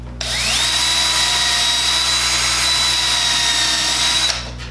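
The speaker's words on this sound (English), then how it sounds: "So I'm going to drill a pilot hole." A power drill bores a pilot hole in wood while building a snake cage: one sustained, loud whine that rises quickly to a steady pitch, holds for about four seconds, then cuts off, with no talk.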